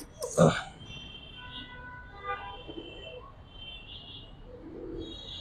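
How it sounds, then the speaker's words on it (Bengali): A Jhuma pigeon with blue eyes coos softly in a few short calls, with faint voices and other birds in the background. "ঝুমা কবুতর ভাই, একদম ব্লু চোখের কবুতর"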